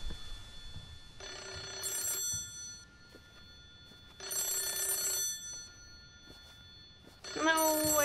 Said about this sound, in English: No, I don't think we should answer the phone.